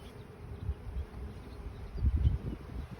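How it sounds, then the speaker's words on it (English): A steady low buzzing of many bees close by, humming continuously with slight swells in loudness. "here there are quite a lot of bees and some pollen"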